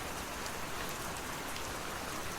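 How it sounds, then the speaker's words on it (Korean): Steady rain fills a room, a dense, even hiss of drops on surfaces continuing without break, alone with no voices. "지금 방안 가득 꽉 들어찬 빗소리가 주는 서정감 따위 내일 아침이면"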